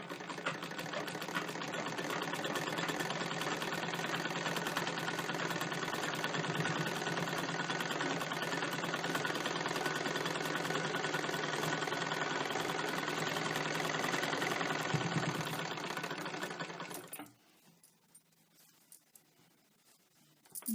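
A sewing machine stitching blouse pieces hums and rattles steadily and evenly for about seventeen seconds, close and continuous, then stops, leaving near-silence with a couple of faint clicks.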